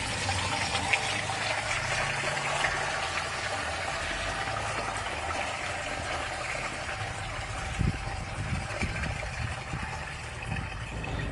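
Water pours steadily through a plain kitchen strainer into the tank of a Smith Performance Sprayers 2-gallon bleach sprayer, a continuous close splashing rush with a few small knocks and bumps.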